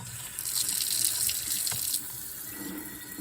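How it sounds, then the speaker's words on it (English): A sink faucet runs hot water steadily to rinse paint off an engraved pint glass, a close, continuous splashing hiss that eases slightly near the end. "you want to get the water started"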